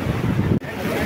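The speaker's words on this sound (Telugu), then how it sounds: "అలలు గట్టిగా వస్తున్నాయి, లోపలికి వెళ్ళకండి." Ocean waves crash on Kovalam Beach, with a loud, steady roar of surf and wind buffeting the microphone, broken by a brief dropout partway through.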